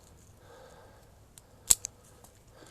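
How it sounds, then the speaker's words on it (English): Trimmers snip the tips of a large podocarpus being pruned as a future bonsai, giving one sharp, close click followed by a lighter second snip in an otherwise quiet setting. "Take my trimmers and then just trim the tips like this."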